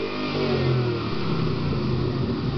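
A Shelby GT500 engine revs and rumbles deeply through its custom exhaust system, a steady throaty drone that swells slightly, loud and close with no talking.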